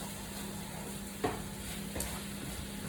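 Chicken sizzles quietly and steadily in a pan, with a couple of soft clinks from stirring, no voices.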